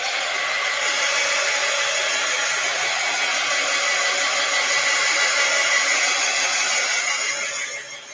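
A hair dryer blows steadily on a wet craft journal page, a loud continuous whooshing hum held for several seconds before it begins to wind down at the end.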